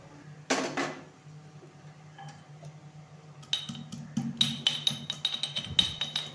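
Roasted peanuts being crushed: quiet at first with a couple of clinks, then a run of rhythmic grinding knocks and crunches, close and moderately loud.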